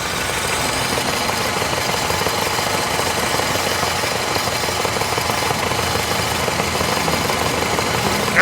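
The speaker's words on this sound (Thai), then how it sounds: "เดี๋ยวผมให้ฟังเสียงเครื่องยนต์กันหน่อย" A 2013 Honda Civic 1.8 E i-VTEC (FB) engine runs at a steady idle, a close, even mechanical clatter and hum with no change in pace and no voices.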